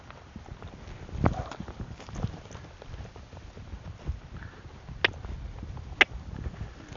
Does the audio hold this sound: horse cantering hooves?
yes